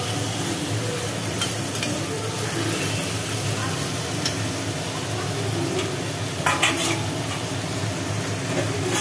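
Fried potatoes hiss and sizzle steadily as they are stirred into a cooked-down spice masala in oil in a pan, with a few scraping stirs standing out near the end.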